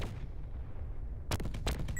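Video game weapons fire in a quick cluster of sharp shots after a low rumbling lull, several close blasts in rapid succession near the end.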